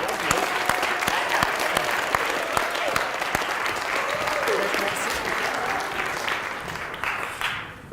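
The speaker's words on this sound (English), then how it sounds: "Now's a great time to give them a round of applause." Audience at a Lutheran school event claps in a warm round of applause, sharp individual claps standing out early before the clapping thins and fades near the end.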